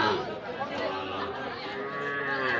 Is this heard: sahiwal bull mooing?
yes